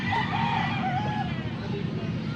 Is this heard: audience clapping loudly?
no